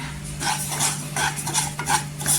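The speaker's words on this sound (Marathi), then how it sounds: "इथे ही वरी टाकायची आणि भाजून घ्यायची" Barnyard millet (varai) roasting in melted ghee in a pan, giving a continuous soft sizzle with scraping and stirring scrapes throughout, close and moderately loud, with no voice.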